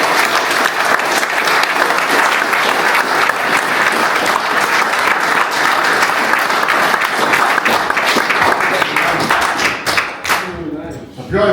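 Sustained, loud audience applause at a recovery celebration following a speech, dense clapping that tapers off near the end as a voice comes in.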